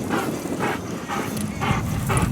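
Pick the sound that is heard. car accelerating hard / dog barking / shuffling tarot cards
dog barking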